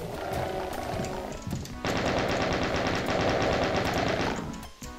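Rapid, continuous chain gun fire from the Doom video game, a dense mechanical rattle of shots in two sustained bursts with a brief pause between them.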